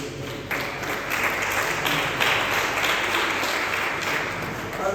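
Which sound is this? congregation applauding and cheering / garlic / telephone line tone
congregation applauding and cheering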